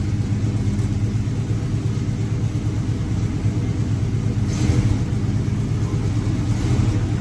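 A Ford OBS truck engine idles and rumbles steadily at close range in a shop as it is put into reverse, a low continuous drone with slight swells and no talking.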